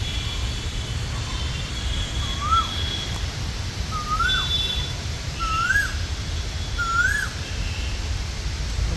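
An Asian koel repeats its rising whistled call four times at even intervals, somewhat distant, over a steady low background rumble, just after rain stops in Bengaluru.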